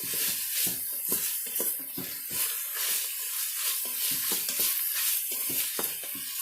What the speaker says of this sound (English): So we're going to stir.